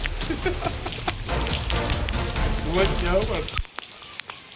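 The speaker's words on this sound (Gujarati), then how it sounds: "શ્રાવણ મહિનો હે ને એટલે વરસાદ ચાલુ ને ચાલુ રહે" Monsoon rain falls steadily in a loud, dense patter for most of the stretch, then drops sharply to a quieter drip near the end.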